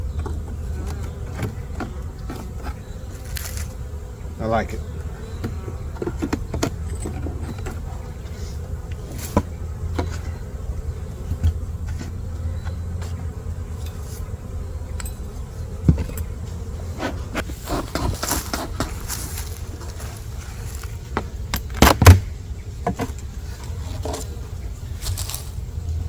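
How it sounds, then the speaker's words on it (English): A steady low droning hum of many honeybees inside a hive box fills the background, with faint handling clicks and a brief spoken remark near the end. "I can see down in there the bottom box is full of bees."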